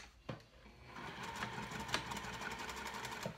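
A sewing machine stitches a cork dopp kit lining seam, running at a close, fairly quiet, steady hum after a few initial clicks and taps.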